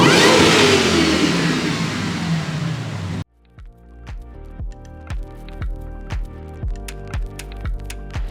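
A Ford Raptor with an aFe Raptor R open-element intake revs hard and loud at first, then settles into a rhythmic series of short repeated blips and pulses close by.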